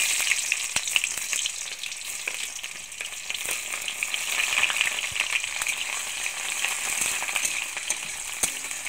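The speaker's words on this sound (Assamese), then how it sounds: "পিয়াজখিনি দি মই অলপ সময় লৰাই থাকিম" Onions sizzle steadily in hot mustard oil in a wok, a continuous bright crackling fry with occasional stirring clicks, close and alone without voices.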